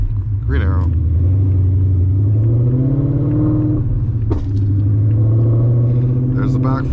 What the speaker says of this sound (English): There's the backfire.